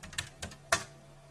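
Three quick, faint keystrokes on a computer keyboard, close and unevenly spaced, the last one slightly louder, with no talking over them.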